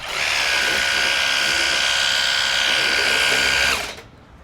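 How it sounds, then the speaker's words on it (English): Fanttik NB8 Flip portable pressure washer motor running steadily at high pressure, a loud, even high-pitched whine that holds for several seconds before cutting off abruptly. "And the motor is not that noisy, it's pretty tolerable."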